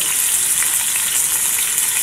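Meat sautéing in a hot pan with bay leaves for spicy adobo rice with taro, a steady close hiss and sizzle of frying without pause.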